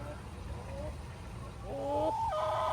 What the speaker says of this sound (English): we got these little chickens that are spying on us